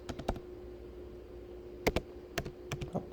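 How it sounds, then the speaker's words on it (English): Keyboard keys clatter in short uneven bursts, a few clicks early on and then scattered clusters of keystrokes, as someone types one-handed on a computer keyboard during a Raspberry Pi programming session; fairly quiet and close, over a steady low hum. "I'm typing one-handed"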